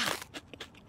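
Crunchy cat food eaten in a cartoon, a quick series of four or five close, crisp bites and crackles in under a second.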